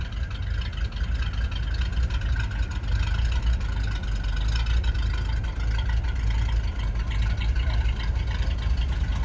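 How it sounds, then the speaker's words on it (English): A 1963 Ford Thunderbird engine idles with a steady, deep low rumble, close and continuous with no pauses. "Love that rumble on these cars."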